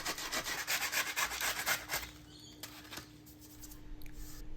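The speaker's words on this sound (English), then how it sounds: "I repeat with 120 grade sandpaper on" Rough back-and-forth rasping of 120 grit sandpaper over a scuffed black anodized Tesla wheel, rapid close strokes that stop after about two seconds, followed by a few light scrapes and handling sounds.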